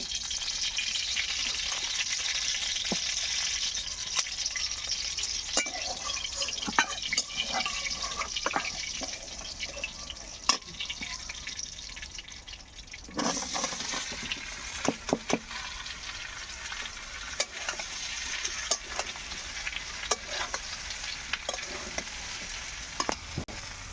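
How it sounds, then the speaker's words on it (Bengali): Young green jackfruit and potato pieces fry together in a pan, giving a continuous sizzle broken by frequent scrapes and taps of a stirring utensil, with a brief lull partway through. "আমি এঁচড় আর আলুগুলো একটু ভেজে নেব।"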